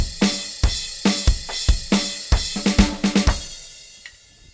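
Drum kit playing a fast fill from a song, rapid snare and tom hits with kick and cymbal accents, close and loud, ending in a ringing decay with no talking.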